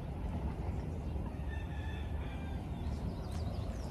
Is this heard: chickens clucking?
yes